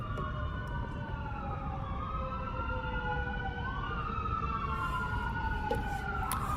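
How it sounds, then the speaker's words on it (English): Several emergency sirens wail together with rising and falling tones over steady low traffic rumble, fairly loud and continuous throughout. "It's rare to hear sirens in this town."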